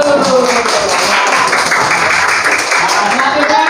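A classroom of students claps their hands together in a dense, continuous burst of applause, close and loud, with voices mixed in.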